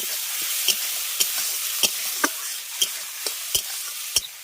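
Spice paste of ground coriander, cumin and chilli powder sautéing in a hot pan, a steady close sizzle broken by about ten sharp scraping stirs at irregular intervals, no voices.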